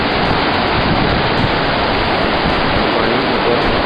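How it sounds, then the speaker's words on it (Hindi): A Ganges river stream rushes down from the dry Himalayan mountains near Gaumukh and Tapovan, a loud, steady, broadband roar of water with no breaks and no voices. "पानी ऊपर से आता हुआ, और ये बहुत ही हिमालय का विहंगम दृश्य, एकदम सूखा पहाड़, पहाड़ों से आती हुई नदी, गंगा नदी की एक धारा।"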